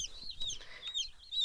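Small chicks in a chicken tractor peep and cheep faintly in short, high chirps, over a soft outdoor background.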